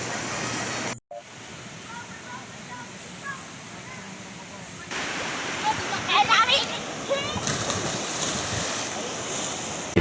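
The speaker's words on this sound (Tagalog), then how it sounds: "maganda yung tingnan po yung agos po ng ilog po" Flowing water of the Marabong River in Burauen, Leyte, rushes steadily in the background as a soft broadband wash, with brief handling bumps and louder splashy stretches, and no clear talk.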